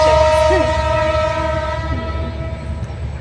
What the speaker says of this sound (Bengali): দেখছেন? ট্রেন এসে পড়ছে।